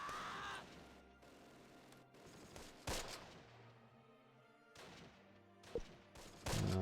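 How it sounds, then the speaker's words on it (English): Bursts of machine gun fire from an MG team in the war game Close Combat, short separated volleys and impacts at a moderate level with quiet gaps between. "we're gonna have to start opening up with the MG team now"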